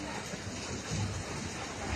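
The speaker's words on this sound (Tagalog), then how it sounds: "Sana tumigil na yung ulan." Steady broadband rain hiss during Typhoon Crising, falling continuously and fairly loud with floodwater rising nearby, a low rumble underneath and no clear speech.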